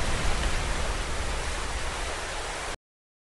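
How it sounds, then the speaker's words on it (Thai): Rain falling during a storm: a dense, steady broadband hiss of downpour that holds at a constant level and then cuts off abruptly near the end. "มีพายุและฝนกำลังตกนั่นเอง"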